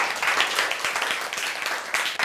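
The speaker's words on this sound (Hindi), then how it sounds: "इनके लिए जोरदार तालियां।" Classroom of students clapping for two classmates, brisk scattered hand claps that carry briefly and then thin out.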